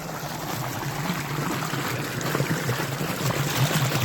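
Water gushes from a leaking dam in a loud, steady rushing roar that stays constant and close throughout, with no voices.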